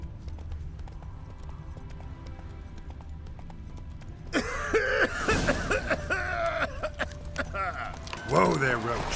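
Geralt's horse Roach from The Witcher 3 clip-clops along, hooves thudding in a steady rhythm close by, with a voice speaking over them in the second half.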